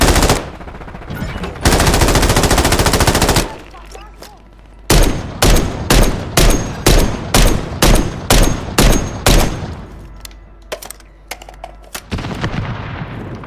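Loud close-range gunfire from the Call of Duty Warzone video game, Plunder quads mode: a long sustained automatic burst, a brief lull, then a rhythmic run of about a dozen heavy single shots before another stretch of firing.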